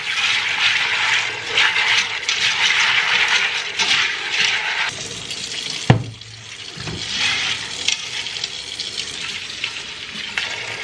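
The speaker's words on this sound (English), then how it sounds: "make sure you rinse them a couple times" Tap water running and splashing while dried beans are rinsed in a kitchen for frijoles puercos, a steady close rush with a brief clatter midway.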